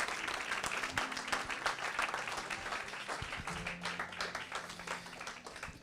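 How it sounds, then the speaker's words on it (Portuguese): A church congregation applauds during a service, with steady crowd clapping heard at a moderate distance and a faint sustained tone and murmur underneath. "Vamos aplaudir em nome de Jesus."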